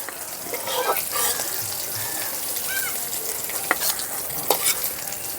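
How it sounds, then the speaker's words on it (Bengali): Shrimp frying in hot oil in a pan while cooking a shrimp and ash gourd ghonto, a steady broadband sizzle with occasional stirring scrapes and small pops, close and continuous with no talk. "চিংড়ি মাছ ভাজা একদমই সহজ, তেলের মধ্যে দেওয়ার সঙ্গে সঙ্গে ভাজা হয়ে যায়"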